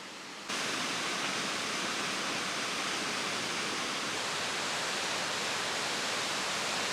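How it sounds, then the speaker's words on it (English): Lealt Falls waterfall on the Isle of Skye, a steady, loud broadband roar of falling water that starts abruptly after a brief quiet moment and holds constant throughout, with no voices. "within a 5-minute drive we came across Lelt Falls, which is a 2-minute walk from the car park"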